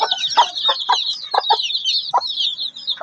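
A mother hen clucks with soft, low, repeated calls close by while her newly hatched chicks keep up a continuous chorus of high, busy peeping. No one speaks.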